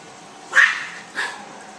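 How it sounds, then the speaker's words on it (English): A dog gives two short, sharp barks or yips at a poodle puppy, close and loud, the second a bit weaker and about half a second after the first, with a quiet room around them. "that little Jayla just barks at him and she won't leave him alone"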